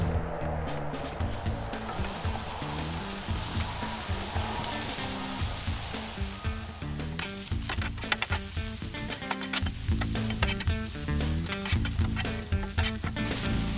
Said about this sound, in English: We're going to put the onions onto the griddle to help the oils from the onions to be able to continue the seasoning process for us